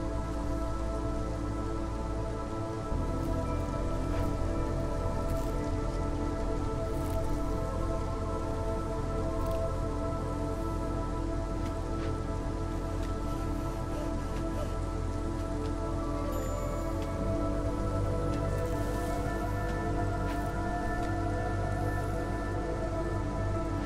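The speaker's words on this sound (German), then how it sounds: "wir haben auf jeden Fall jetzt hier ordentlich Regen. Sturm, um genau zu sein" Heavy rainstorm in the video game Against the Storm, a continuous roar of rain on surfaces over a low rumbling bed that shifts in level partway through, with no speech.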